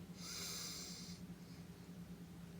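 Someone draws a steady nasal sniff through one nostril to take in a nasal spray. It is close and breathy, lasts about a second, and fades into a quiet hiss.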